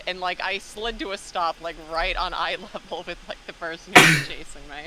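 A person talks steadily, then one abrupt, explosive sneeze bursts out near the end, louder than the speech.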